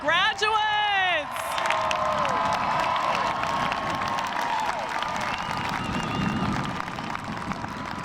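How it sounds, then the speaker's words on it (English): Applause and cheering for graduates at a 2019 graduation ceremony, a loud sustained roar of clapping and crowd voices filling a large hall, with brief high whistles or shouts at the start. "Let's offer one more big round of applause to celebrate our graduates."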